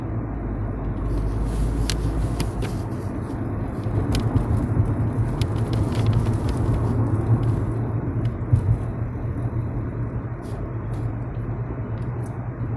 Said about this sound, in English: driving, trying to not keep, not take my eyes off the road too much